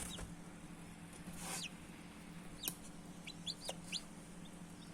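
Newly hatched chicks from an incubator machine peep in short, high, scattered chirps, with a few clustered calls near the end over a steady low mechanical hum.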